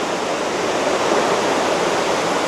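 Tad Yuang waterfall near Pakxong roars as a dense, steady rush of falling water, loud and close, with no break or change.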